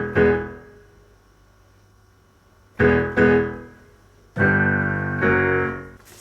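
A piano plays the verse chords of a song as struck chords, each left to ring and decay. Four or five chord attacks come in an unhurried rhythm at moderate volume, with no voices over them.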